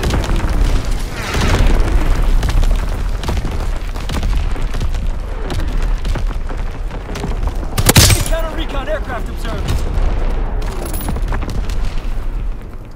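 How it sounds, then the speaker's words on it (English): Enemy artillery strikes in Call of Duty: WWII multiplayer, a run of heavy booming blasts, one sharp loud crack midway followed by crackling debris, with gunfire and game chatter around it. "Incoming enemy artillery."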